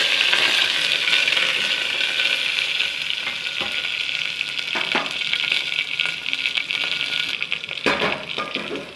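Chopped onion, curry leaves and two green chillies sizzle loudly in hot oil in a pan, a steady close frying hiss broken by occasional scrapes and taps of a stirring spoon.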